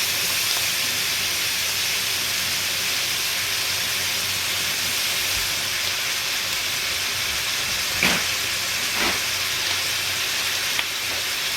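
Steak sizzling in a hot pan as it goes in, a steady close frying hiss with a few brief spattering pops and knocks partway through, loud and with no voice.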